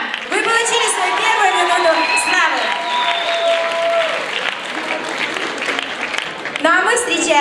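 An audience at a televised talent-show qualifying round in a concert hall applauds and cheers a contestant, with steady dense clapping and high whoops throughout, swelling again near the end.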